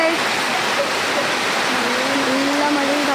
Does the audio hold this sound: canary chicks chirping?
no